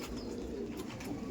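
Andhra pigeon cooing while being held in the hand among a large pigeon flock, soft low coos close by over a faint background hum.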